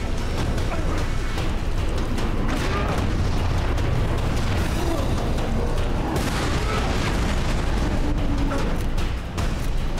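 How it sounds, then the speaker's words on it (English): Gas tanks bursting in the video game Prototype produce a dense, continuous wash of booming explosions and crackling debris. The roar stays loud and sustained throughout, with a faint voice underneath. "Let's try to break up these gas tanks."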